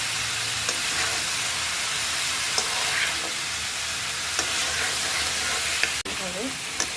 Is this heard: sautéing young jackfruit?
yes